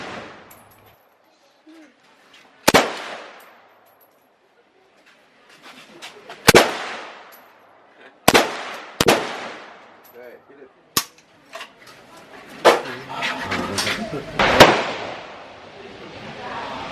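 AK-47 rifle fire at the Cu Chi tunnels shooting range in Vietnam: about eight loud, sharp single shots come at irregular intervals, each with a brief echoing tail, and they bunch closer together near the end.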